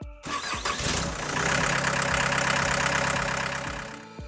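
A Mule 9069 shed mover with a 69-horsepower diesel engine cranks over and catches, settling into a loud, rough, knocking idle that holds close and steady before tapering off, with no voices.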